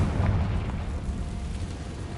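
A Confringo explosion spell from Hogwarts Legacy goes off as a dense, loud, rumbling burst that holds steady for about two seconds with no talk over it.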